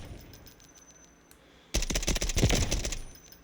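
Single shots from a Mark 12 SPR rifle, an M16 conversion firing 5.56 ammo in the Delta Force game on PS5, crack out loud and fast at about the halfway point after a quiet lead-in.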